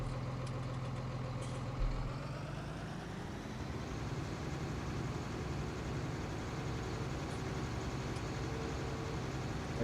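A Farming Simulator 19 tractor pulling a plough drones with a steady, loud, low engine rumble, running continuously with no talk over it.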